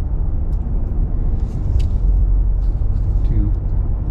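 A car driving along Bar Harbor, Maine streets toward Eden Street: steady low engine and road rumble from inside the vehicle, continuous and fairly loud, with a few faint clicks above it.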